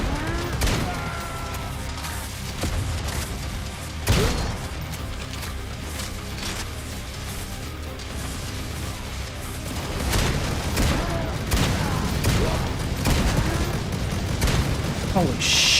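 Repeated booming blasts and bursts of gunfire crackle through a dense, chaotic soundscape in the video game Necromunda: Hired Gun, with a loud thump near the start and rapid bursts later.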